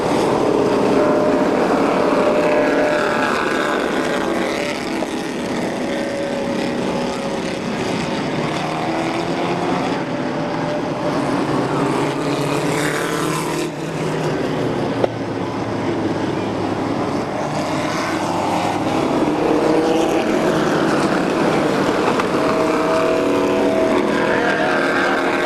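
An outboard racing boat engine roars steadily and loud for the whole stretch, with a continuous high-pitched motor drone that swells and dips slightly as the craft runs through the turns.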